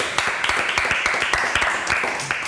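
An audience at a talk breaks into steady applause, a dense run of close, crisp hand claps under a noisy room bed, continuing throughout.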